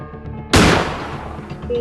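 A single loud, sharp gunshot with a short decaying tail goes off in the Granny horror video game, standing clearly over faint background game noise.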